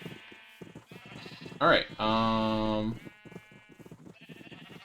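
A Minecraft sheep bleats twice in quick succession, a short wavering cry then a longer sustained one, loud and close, with someone talking quietly before and after.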